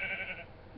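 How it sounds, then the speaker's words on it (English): A video game sheep bleats once, loud and close, in a short wavering call that fades into low background noise. "Pink sheep in your house! A red sheep!"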